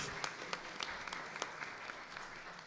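An audience at a panel discussion applauds. The clapping is faint and distant, a steady patter of many hands with scattered sharper claps running throughout.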